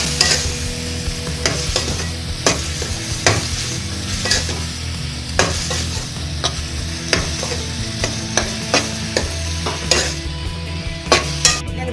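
Chicken mince frying for samosa filling, a steady loud sizzle broken by frequent scraping knocks of a spoon stirring against the pan, close up with no talk.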